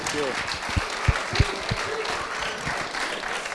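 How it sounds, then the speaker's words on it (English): Audience at a press conference giving David Luiz a round of applause, dense sustained clapping throughout with a few louder claps standing out up close. "If everyone could help me by giving David a huge round of applause"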